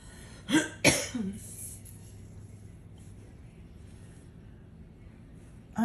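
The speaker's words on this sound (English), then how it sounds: "I just have a little nagging cough every once in a while" Two sharp coughs close together near the start, loud and close, then a quiet background with faint low rumble and a brief final burst at the end.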